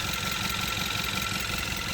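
A 2017 Hyundai Tucson 1.6 turbo AWD engine idles steadily with a misfire on cylinder 4, giving a continuous close mechanical hum with a faint uneven knock running through it, no voices.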